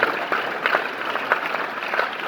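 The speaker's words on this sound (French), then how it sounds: "Applaudissons encore une fois de plus pour notre" Audience applauding at a motivational gathering, a brief steady patter of clapping with a few sharper claps standing out.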